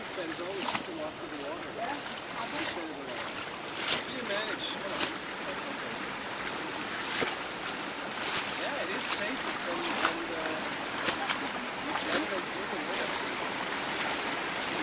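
A stream of water flows steadily on a trek near Nagarkot outside Kathmandu, Nepal, a continuous broadband rush with scattered splashes, while people talk and call out over it.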